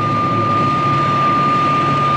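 A 1960s aircraft engine drones loud and steady in flight, with the gear down at slow speed and no speech over it.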